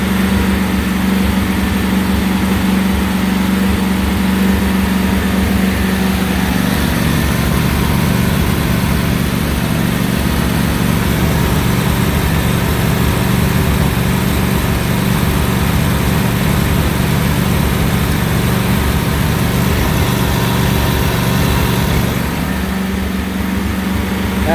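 A Briggs & Stratton replacement lawn mower engine runs steadily and loudly for the whole stretch, a continuous close-up drone with a slight change in tone partway through and near the end.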